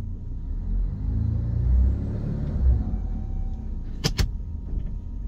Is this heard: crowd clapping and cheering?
no